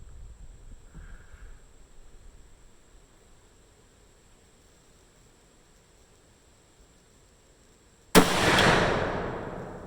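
A single CVA Hunter 45/70 rifle shot fired at a 100-yard target: a long near-silent wait, then one sudden loud report with a decaying roar that fades over the final seconds.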